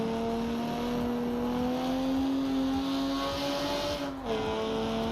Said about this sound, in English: the exterior exhaust is not bad.